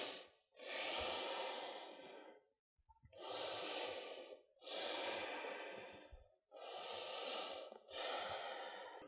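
Deep, slow breaths during a yoga forward fold in a studio, four long hissing inhale-exhale cycles close to the microphone with short pauses between them, no talking.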